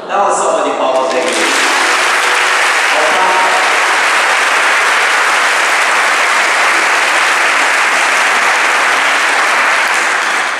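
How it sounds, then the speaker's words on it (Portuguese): Sustained loud applause from a church audience, starting after a brief voice and continuing dense and steady for about ten seconds. "Dá uma salva de palmas aí."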